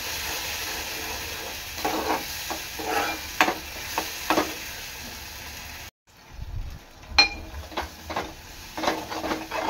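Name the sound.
masala paste being stirred and fried in oil with onions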